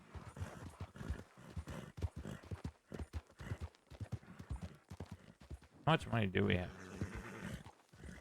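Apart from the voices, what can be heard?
horse galloping and neighing in a video game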